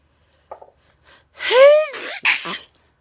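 A person's loud, close sneeze, preceded by a few soft sniffs and breaths, with a rising, gasping intake and a sharp burst, followed by a second short sneeze-like exhalation.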